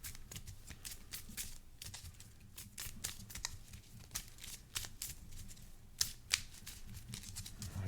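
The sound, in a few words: shuffling cards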